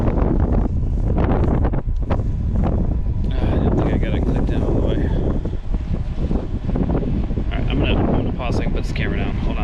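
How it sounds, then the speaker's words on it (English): Strong cold wind buffeting a microphone at a Tesla Supercharger station during a Volvo XC40 Recharge road trip, loud continuous roaring gusts close up, with a person speaking over it. "It's cold and windy, so sorry if it's really loud."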